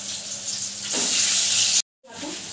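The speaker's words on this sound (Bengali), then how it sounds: "মাছটা মা ভালো করে ভেজে নিচ্ছে" Fish, small tilapia, frying in hot oil in a home kitchen, a steady close sizzle that swells louder midway, cuts out briefly, then resumes more softly.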